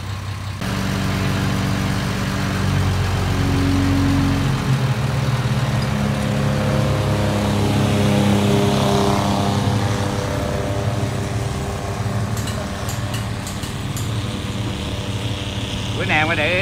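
Six-cylinder Komatsu outboard engine fitted as an inboard-style drive on a 7.7 m speedboat, running steadily with a continuous low droning hum and a rising tone partway through; a person talks over it throughout.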